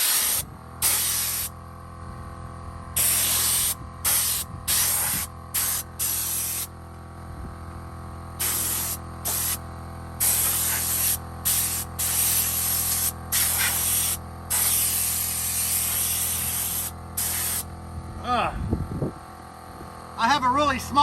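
Spray gun fed by a small 6-gallon pancake air compressor laying paint on a damaged car roof, a series of loud hissing bursts of varying length separated by short pauses over a constant low hum.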